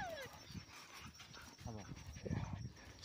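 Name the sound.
dog barking during a night hunt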